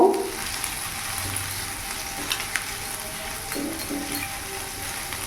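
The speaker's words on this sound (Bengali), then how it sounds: "এরই মধ্যে আদা গ্রেট করে দিয়ে দিয়েছি। একটু নাড়াচাড়া করে নেব।" Grated ginger frying and stirred in a pan while making aloo paratha, a steady soft sizzle with occasional scrapes and clinks of the spatula, close and fairly quiet, no talking.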